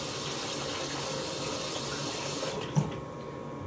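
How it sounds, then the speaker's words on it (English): Tap water runs into a bowl to rinse rice, a steady close splashing flow that cuts off near the end with a brief clunk. "I'm going to put a little more water in here."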